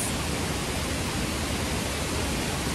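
A waterfall at a paid-entrance tourist falls heard as a steady, even roar of rushing water, filling the brief stretch without pause or voices.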